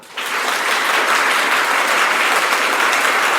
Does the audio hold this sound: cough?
no